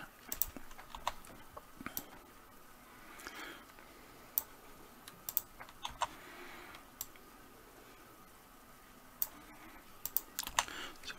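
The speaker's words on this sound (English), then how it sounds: "I'm pressing the down arrow on my keyboard" Quiet keystrokes on a computer keyboard, scattered irregular clicks and presses with short pauses, faint and close against a low background hiss.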